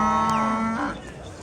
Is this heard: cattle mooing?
yes